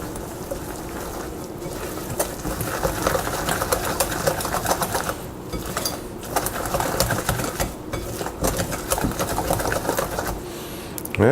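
Corn dog batter of milk and cornmeal is whisked in a bowl, producing rapid continuous scraping and tapping with a few short pauses, close and fairly loud, with no voice over it.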